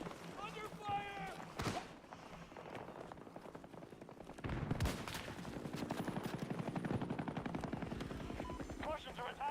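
Rapid automatic gunfire in a Battlefield match, with sustained bursts and repeated shots loud and close over a mechanical helicopter-like drone, while game voices call out.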